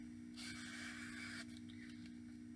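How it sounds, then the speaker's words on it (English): A painting tool scraped and pulled across a painted surface to strip away dark blue paint, giving a soft, close rasping sweep about one second long over a steady low background hum. "So I'm going to pull it, scrape it across, pull it"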